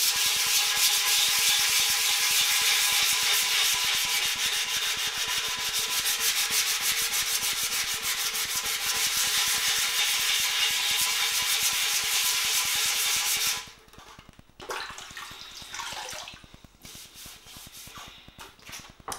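Sandpaper rubs rattle-can paint off a carbon fiber bike frame in a loud, close, continuous rapid scrubbing, then slows into softer, intermittent strokes near the end.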